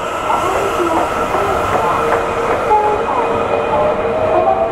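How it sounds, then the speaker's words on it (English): A metro train rumbles loudly along the track, with a steady roar and faint squeals and clicks from the carriage, no one speaking. "I just took the metro for 3 stops"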